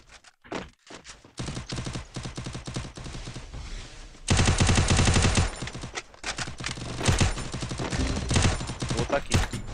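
Video game gunfire in rapid automatic bursts, sharp cracking shots in clusters separated by short pauses, loud and close, with a denser sustained volley midway.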